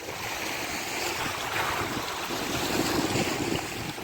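Sea waves wash onto a Scottish beach at a rainy wild-camping spot, a steady, loud, broad roar mixed with buffeting wind against the microphone, with no voices.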